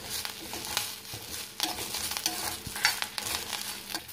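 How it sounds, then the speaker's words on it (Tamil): White urad dal roasts in a pan, giving a faint, steady sizzle broken by irregular scraping and rattling stirs close by, with no voices. "உளுந்து நல்லா வறுபட்டுருச்சு."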